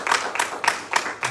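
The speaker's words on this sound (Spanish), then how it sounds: "Démosle palmas al Señor." A congregation at a church service claps hands in praise, five or so sharp, loud claps in a steady rhythm about a third of a second apart.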